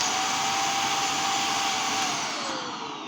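A vacuum cleaner runs with a loud, steady rushing whine of suction, its pitch dropping slightly as it starts to wind down near the end, with no talk.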